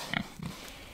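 Pigs being loaded into a trailer for the processor give a short grunt or snort, close and fairly quiet, over low background noise.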